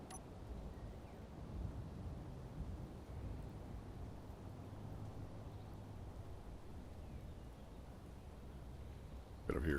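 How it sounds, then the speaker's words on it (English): A thunderstorm in Space Engineers, a dense low rumbling roar of wind and rain that stays steady and fairly faint, with a voice talking over it. "Might have to hold up till that storm passes."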